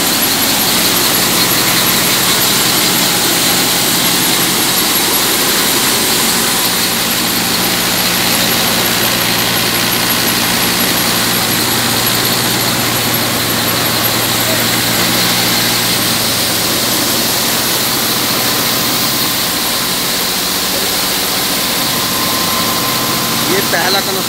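Threshing machine driven by an Arjun Novo 605 tractor, a new large four-belt thresher, running in a field with a loud, steady engine hum and a constant high mechanical whine throughout.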